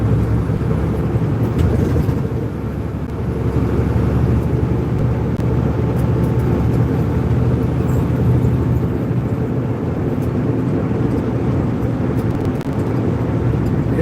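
A Cat C15-powered T800 semi truck with an 18-speed transmission hauls a cattle trailer, its deep engine rumble loud, steady and continuous, up close and unbroken by speech.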